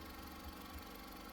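A 2001 Honda Civic EX engine idling, a faint, smooth, steady hum with a low even pulse, quiet and continuous throughout.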